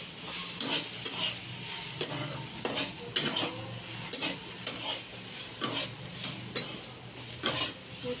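Young potatoes fry in a pan with a steady close sizzle, while a utensil stirs and scrapes against the metal in regular strokes about once a second.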